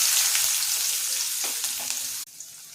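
Steady crackling sizzle of chopped shallots frying in hot oil, loud and close, with a few stirring scrapes before it cuts off abruptly near the end.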